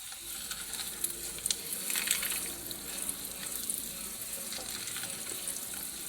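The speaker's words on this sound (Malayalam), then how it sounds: "ഇങ്ങനെ ഇളക്കി കൊടുക്കാം കേട്ടോ." Egg frying in a pan as it is stirred, with a steady crackling sizzle and scattered scraping clicks throughout, no voices.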